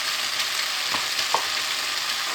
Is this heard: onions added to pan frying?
yes